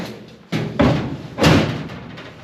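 The door of the BBQuda, a custom car, swings shut and latches, giving two solid close thuds a little under a second apart with some rattle after each, and no talking.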